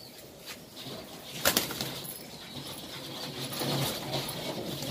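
A Teddy pigeon flapping its wings as it is released upward, a close, quick burst of wingbeats with soft feathery rustling near the middle, then continued fluttering over faint background noise.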